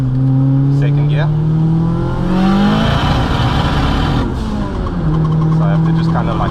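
A 260kW 16VT Mk2 GTS pulls hard in second gear, its engine note climbing steadily in pitch, breaking off at a shift and then rising again, loud and close inside the cabin.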